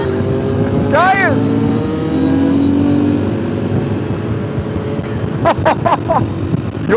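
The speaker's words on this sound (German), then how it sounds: "Nico und jetzt Wheelie raus." A motor vehicle revs hard during a wheelie, its engine roaring loudly and steadily with rising surges, while excited voices shout over it.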